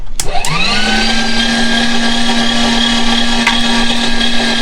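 Electric meat grinder grinding pork, starting with a couple of sharp clunks before the motor spins up into a steady, loud whining hum that runs on unbroken, with a faint click partway through.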